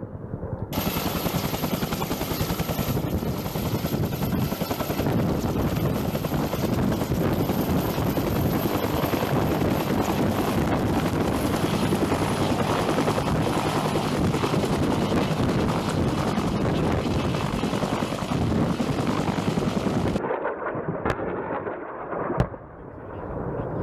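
An AH-1W Super Cobra attack helicopter flies steadily close by, its loud, dense rotor and engine roar rumbling continuously for about twenty seconds before cutting off abruptly, with a brief gusty tail.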